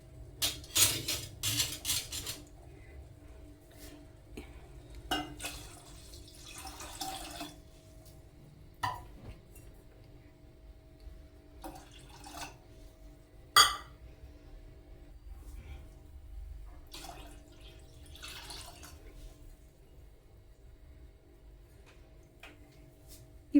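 Water goes into a pot of mashed tomatoes for tomato rasam: brief pours and splashes come with scattered clinks of a utensil against the pot, near and moderately quiet over a low steady hum, with some faint talk.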